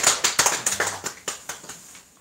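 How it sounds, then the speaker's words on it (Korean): A church congregation at Sunday worship claps in welcome, a short burst of distinct, fairly close handclaps in an uneven rhythm that thins out and fades within a couple of seconds. "우리 환영의 박수 한번 드립니다"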